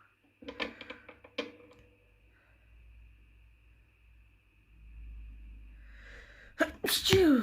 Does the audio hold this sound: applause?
no